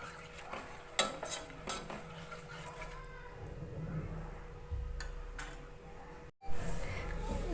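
Milk and cornflour stirred into a thick paste in a pot, a spoon scraping and clinking against the metal in scattered knocks with soft thick stirring between, close and fairly quiet.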